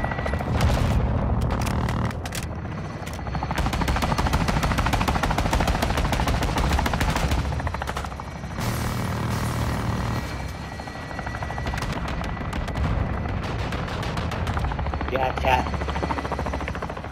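Intense combat in the video game Modern Warfare 2 after a fire mission is called in: continuous loud helicopter rotor roar with bursts of machine-gun fire and booming impacts, radio voices talking throughout.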